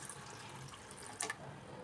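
Hot water poured onto rice gives a faint, steady liquid rush, quiet and close, with a brief brighter splash near the end.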